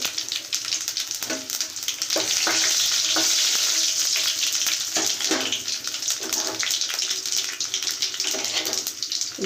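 Dried red chillies, garlic and tempering spices sizzle and crackle in hot oil in a pan, a loud continuous fry with a few stirring scrapes, no voices.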